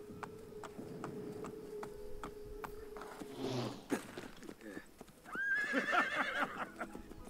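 A horse in the Assassin's Creed Brotherhood video game trots with steady clip-clopping hooves beneath game voices, then breaks into a shrill, loud neigh near the end.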